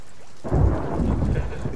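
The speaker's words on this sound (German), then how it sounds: "Ist das Gewitter jetzt bald mal weg?" Thunderstorm with rain in the video game Sea of Thieves: after a quiet start, a loud rumble of thunder breaks in over steady rain noise and keeps rolling to the end.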